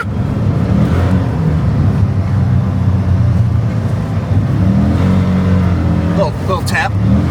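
A Polaris Xpedition side-by-side drives along toward a parking spot, its engine a loud, continuous rumble that rises and falls slightly, with people talking over it and some sharp higher noises near the end.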